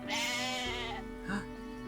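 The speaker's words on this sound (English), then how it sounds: "This is a weird goat." A goat in the video game Atelier Ryza gives a loud, drawn-out bleat, then a shorter second call after a brief pause, clear and close with no talk.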